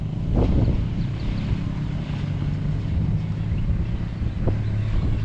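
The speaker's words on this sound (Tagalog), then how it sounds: "lakas ng hangin" Steady strong wind rumbles and buffets the microphone throughout, a constant low roar with no voices.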